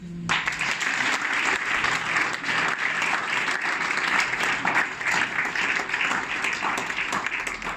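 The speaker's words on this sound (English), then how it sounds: "Is that how you clap?" Sustained applause from a church congregation, dense steady clapping that fills the whole stretch without pause.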